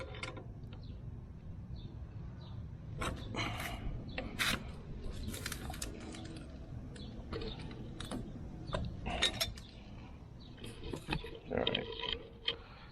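Pliers tighten a new outdoor hose bib fitting, giving quiet, irregular metallic clicks and scraping bursts close by, with brief clatters spread over a low background hum.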